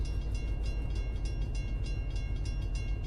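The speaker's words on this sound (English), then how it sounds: "That is a really loud railroad crossing." A train rumbles past a railroad crossing in a train simulator game, a steady loud roll with faint rhythmic clicks throughout, no voices.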